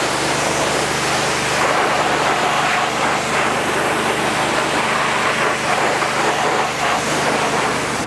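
A pressure washer pre-rinses a car wheel rim and tire, giving a steady, loud, broadband hiss of spraying water that runs unbroken throughout.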